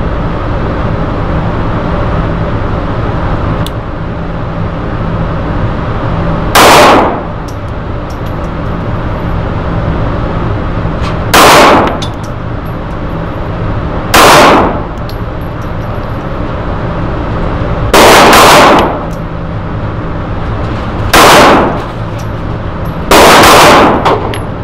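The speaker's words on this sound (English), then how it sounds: "Alright, Sig 238 at 15 yards here at Magnum Shooting Center." Six sharp, loud gunshots from a Sig P238 .380 pistol at an indoor shooting range, fired at uneven intervals several seconds apart over a low steady background hum, with no talk.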